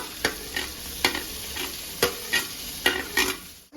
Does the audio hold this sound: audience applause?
no